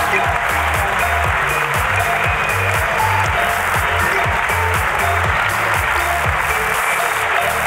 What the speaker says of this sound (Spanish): ¡Aplauso para Isabel!